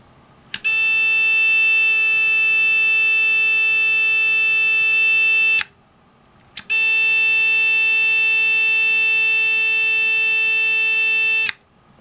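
A loud, piercing electronic buzzer on a Titan II missile silo blast door control panel sounds in two long continuous blasts, each about five seconds, separated by a short pause.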